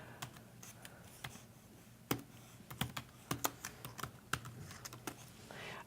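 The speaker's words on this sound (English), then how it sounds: "So we'll just type in Shenandoah" Typing on a computer keyboard in a quiet room: a run of sharp, close key clicks in an irregular rhythm, some keystrokes louder than others, over a low steady hum, with no voices.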